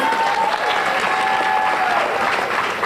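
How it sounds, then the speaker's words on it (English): A full audience breaks into a round of applause, a dense, continuous wash of clapping at steady loudness, with cheering and whooping voices mixed in. "We give them a round of applause."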